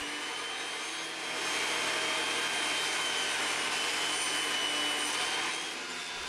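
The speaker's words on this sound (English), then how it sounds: "now I mill it down into some strips here" Power tool milling square wood stock into thin strips, a steady loud broadband whine and rasp that swells slightly in the middle and holds throughout with no talking.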